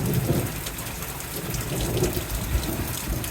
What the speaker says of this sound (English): Wow, that was the weirdest thunder.